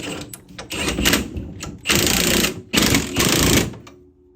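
Coil spring on a Ram 1500 5th Gen truck being compressed with spring compressors during a lift install, heard as bursts of rapid, loud mechanical rattling from a power tool, stopping and starting several times up close.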